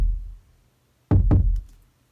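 Two punchy kick drum sample hits land back to back, rounded and dull with the top end cut away by EQ, after a faint earlier thump.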